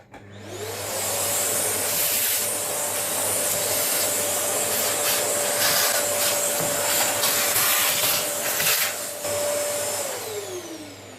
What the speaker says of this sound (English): I'll take the vacuum cleaner here and vacuum those out